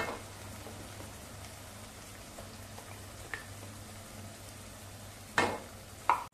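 Ground masala fries with spring onion greens in a hot tempering, a steady close crackle and hiss with a couple of sharp spoon clanks near the end and a faint low hum underneath.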